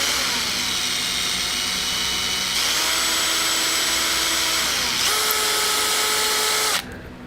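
A power drill runs continuously at close range with a loud, steady whine, its pitch stepping up and shifting a few times before it drops off at the very end.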